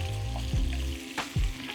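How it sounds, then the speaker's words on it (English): Chicken pieces sizzle in a frying pan beside bacon, giving a close, crackling fry with a few sharper spits and pops over the short stretch. "So now I'm going to add the chicken pieces, they go in there."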